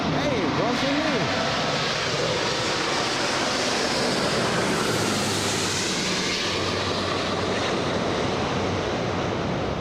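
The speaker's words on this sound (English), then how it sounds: "The aircraft, the big one, A350 1000." A large Airbus A350-1000 airliner at Los Angeles International Airport makes a broad, steady jet roar that washes over everything like surf and holds at an even level throughout.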